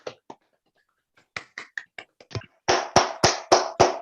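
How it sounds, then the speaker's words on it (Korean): A small group claps at a New Year special roundtable, starting with a few scattered, sparse claps before settling into several loud, evenly spaced unison claps near the end. "박수 한번 치실까요?"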